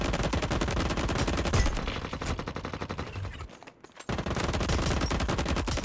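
Rapid automatic gunfire from an R4 rifle in the mobile battle royale game Indus, loud and sustained in dense bursts, with a short lull before the shooting resumes.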